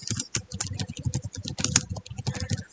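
Rapid, uneven bursts of computer keyboard typing as code is entered, the keys clicking close and crisp.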